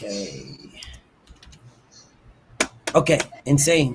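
Rapid clicking of typing on a computer keyboard, close by, with a person speaking briefly near the end.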